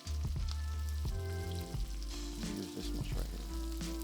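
Chopped onion sizzles and crackles steadily in a hot frying pan, a close, continuous fry with brief stirring clicks, while a voice speaks a few words over it.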